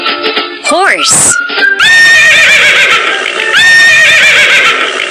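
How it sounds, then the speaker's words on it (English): A horse neighs loudly and close, a shrill rising whinny that breaks into long shaky calls, with a short squeal earlier on. "Horse."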